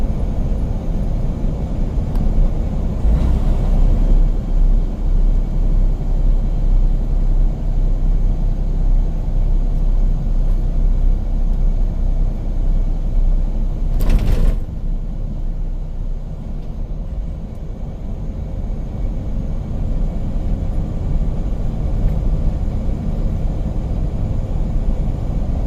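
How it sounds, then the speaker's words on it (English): Steady low engine rumble and road noise from inside the cab of a 2020 Freightliner Cascadia truck pulling a 48-foot trailer, continuous and fairly loud, with a brief louder swell partway through. "What I'm driving is a 2020 Freightliner Cascadia. I'm pulling a 48-foot trailer."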